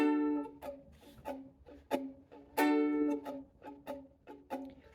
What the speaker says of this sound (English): I'm going to play it on the downbeat, and then I'm going to do a muted strum